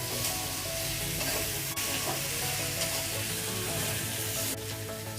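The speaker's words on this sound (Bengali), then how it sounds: "সামান্য একটু তেল দিয়ে দিলাম, কড়াতে বসে যাচ্ছে বলে সামান্য একটু তেল দিয়ে দিলাম।" Shrimp and jackfruit frying in a wok with a little added oil give a steady, loud sizzle, with stirring scrapes throughout and no talk.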